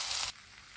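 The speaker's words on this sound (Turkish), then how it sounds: "Tereyağlı tavama aldım. Kızartıyorum." Bread slices soaked in chicken broth fry in a buttered pan, giving a steady close sizzle that drops to a quieter crackle partway through.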